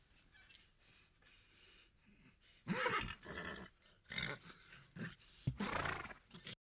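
A person mimics a horse with a string of snorts, whinnies and breathy blasts, loud and close, in irregular bursts.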